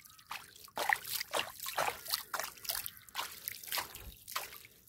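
Water trickles and drips steadily at an outdoor hand-washing spot after rain, with broad irregular splashy bursts that rise and fall throughout, fairly close and moderately loud.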